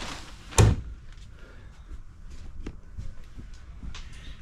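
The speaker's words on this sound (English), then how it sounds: "Pocket slide doors." A pocket sliding door in a Forest River RV at a Florida RV show, rolling shut with a single firm knock followed by faint rumbling and small clicks, heard close with no talking.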